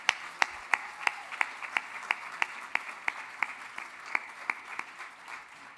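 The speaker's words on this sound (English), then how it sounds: "Let's just give them another round of applause." Audience at an awards ceremony clapping, with sharp individual claps standing out over a steady wash of applause at a moderate distance.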